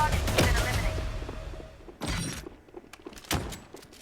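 Gunfire in the video game MATR1X FIRE: two or three rapid bursts of shots with thumping impacts, fairly close, while a voice talks over the action.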